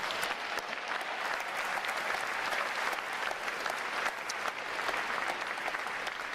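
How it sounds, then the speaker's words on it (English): Sustained applause from a large crowd honoring the recruit training staff at a U.S. Navy boot camp graduation, dense steady clapping filling the whole stretch with no pauses. "let's give a round of applause to the RTC staff"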